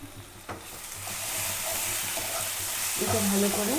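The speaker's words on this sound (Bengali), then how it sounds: "এইটা ভালো করে মশলাটা আমি একটু পেঁয়াজ রসুনে কষে দেবো" Spice paste with onion and garlic fries in a pan, a gentle sizzle that swells to a steady hiss, with a brief knock at the start and a faint voice near the end.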